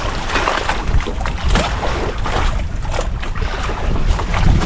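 A boat riding through choppy sea waves, with loud continuous wind buffeting the microphone, rumbling hull and water wash, and surging bursts as it crosses the swells; no one speaks.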